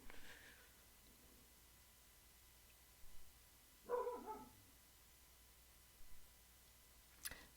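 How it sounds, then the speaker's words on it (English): A female dog barks outdoors, faint and distant, in several short separate barks spread over a quiet background. "Excuse me if you can hear my dog barking outside."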